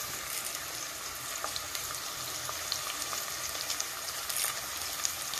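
Onions and green chilies frying in hot oil in a home kitchen pan, a steady close hiss and crackle with scattered sharp pops; no talk.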